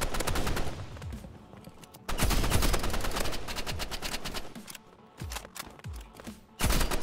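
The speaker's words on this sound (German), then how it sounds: "Wie oft soll ich ihm noch ins Hirn schießen" Rapid gunfire in the Roblox shooter Rivals, loud automatic bursts of repeated shots that stop and restart several times, with short quieter gaps between volleys.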